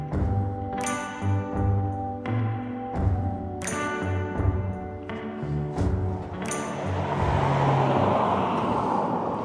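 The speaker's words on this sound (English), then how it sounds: "Cars are going by" Cars roll past on a road outside the Mima Mounds, a steady traffic rumble with a few dull thumps, and the noise swells louder and broader near the end.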